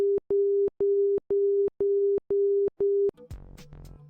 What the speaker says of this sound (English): It also produces an audio signal, which is 2 Morse code dashes per second at a low tone.